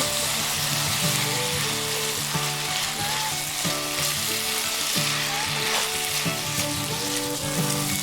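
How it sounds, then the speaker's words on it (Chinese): Duck pieces stir-fried with lemon, oyster sauce and Huadiao wine in a wok, giving a continuous close sizzle with rhythmic scraping and tossing throughout, no voices. "蚝油增鲜， 花雕去腥，继续翻炒均匀"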